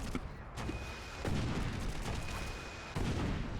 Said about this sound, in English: There seems to be gunfire in the courtyard again, guys.